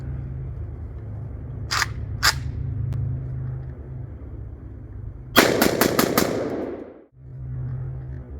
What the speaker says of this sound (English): we're gonna put some more rounds in one of these magazines and do like a 5-shot burst or something